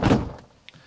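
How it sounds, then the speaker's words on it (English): A vehicle's side door slides and thumps shut close by, a loud broad knock followed by a short faint click, with no one talking. "I'll shut this side door, look."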